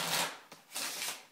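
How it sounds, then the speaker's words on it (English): A deck of playing cards is shuffled by hand in two quick riffling bursts separated by a brief pause, close and fairly soft, with no one talking. "I'll just shuffle it up myself."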